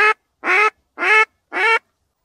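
Loud close duck quacks from a decoy hen during a spring drake hunt in fields, four harsh nasal calls evenly spaced about one per second, standing alone with no talk.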